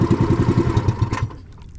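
A small engine, on a boat used for a bidbid fishing hunt, runs loud and close with a steady pulsing chug, then cuts out and drops to quiet near the end.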